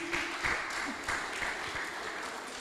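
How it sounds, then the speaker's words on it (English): A squash finals audience at the PSA Challenger Tour event in Mumbai applauds during the prize presentation. The clapping is fairly faint and comes in uneven bursts, with a voice heard over it. "Let's keep clapping, guys."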